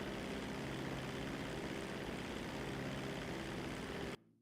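A propeller airplane drones steadily in flight in GTA 5, a constant engine hum that cuts off abruptly at the end.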